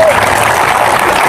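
A church congregation claps during a service, a brief, loud burst of many hands that fills the moment, with a voice partly audible at the start.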